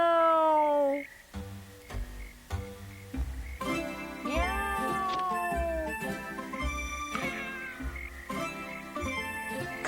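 A voice imitates a cat's meow as a drawn-out, wavering call in an animated Tom Sawyer story, heard clearly over lively background music.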